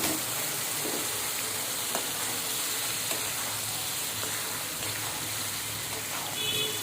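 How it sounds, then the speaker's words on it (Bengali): Boiled garlic is poured into a pan of cooked-down tamarind for garlic pickle and fries with a continuous, even hiss and sizzle, with faint stirring scrapes along the way. "এবার এখানে সিদ্ধ করে রাখা রসুনটা দিয়ে দেবো, ঢেলে দিচ্ছি।"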